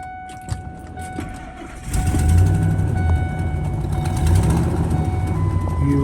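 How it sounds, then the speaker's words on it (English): A 2001 Ford F150 cranks with a few clicks and then starts about two seconds in, running at a steady loud idle nearby, with a faint electronic tone in the background. "you will hear it start up and run"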